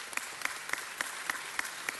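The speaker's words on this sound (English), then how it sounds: "Let's give him a round of applause." A small group at a city council meeting claps in a sparse, regular rhythm, each clap distinct over a soft room background, with no voices.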